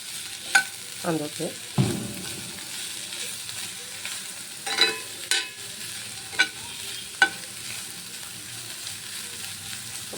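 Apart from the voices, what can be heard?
stir-frying prawns with capsicum in a pan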